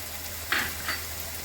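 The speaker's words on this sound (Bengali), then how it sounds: "মটরশুঁটিগুলো আমি এখনই দিয়ে দেবো মশলার সাথে কষিয়ে নেব" Peas fry with ginger, salt and spices in a pan, two short sizzling bursts rising from a soft steady background.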